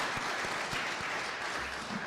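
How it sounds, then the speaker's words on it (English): Applause from the audience at an Edmond mayoral debate after a candidate speaks, a steady wash of clapping throughout, moderately loud with a few sharper claps standing out. "Give him a round of applause."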